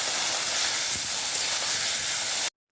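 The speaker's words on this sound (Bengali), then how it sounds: "এবার এর মধ্যে মাখিয়ে রাখা শাপলা ফুলের ডাঁটাগুলো দিয়ে দেব।" Marinated water lily stalks drop into hot oil with fried onions, setting off a loud, dense hiss of sizzling that holds evenly for about two and a half seconds before cutting off abruptly.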